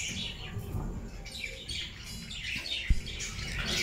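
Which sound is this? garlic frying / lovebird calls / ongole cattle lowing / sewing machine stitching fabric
lovebird calls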